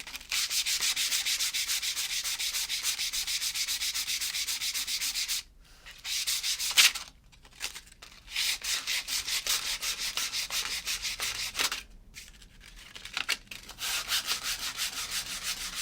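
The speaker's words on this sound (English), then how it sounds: "we're just going to keep sanding until we get this bottom edge here to come out" Steady rasping of sandpaper rubbed back and forth over the bottom edge of a wooden pizza board, close and continuous, with a few brief pauses before the strokes resume.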